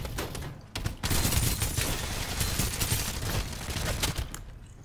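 Rapid bursts of gunfire from a gun in the video game Farlight 84 rattle almost continuously at close range, with a brief gap before the firing resumes.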